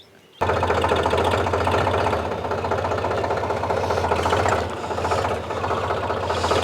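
A tractor works a rain-soaked field during a proso millet harvest, its engine starting abruptly and then running loud and close with a constant clattering, rattling mechanical drone.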